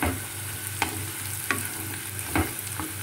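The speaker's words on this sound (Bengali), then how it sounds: "এবার এটাকে ভালো করে একটুখানি আমাকে এই পেঁয়াজের সাথে ভেজে নিতে হবে" Garlic frying with onions for pav bhaji, a steady close sizzle with a few sharp stirring scrapes of a spoon in the pan, no voices.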